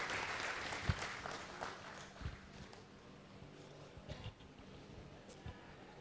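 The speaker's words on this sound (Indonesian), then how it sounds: "Tepuk tangan untuk jajaran Bapilu." Applause for the election committee team at a Partai Demokrat event, with scattered clapping and a few sharper claps rising over a fairly faint, diffuse crowd background throughout.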